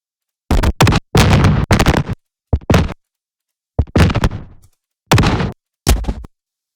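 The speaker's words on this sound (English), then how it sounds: "Let's get another explosion here." Several separate booming bursts, each sudden and loud, cut off into silence between them, like a series of explosion effects played one after another.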